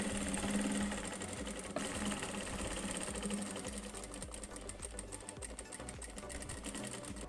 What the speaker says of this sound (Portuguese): eu estou costurando aqui pelo lado avesso da peça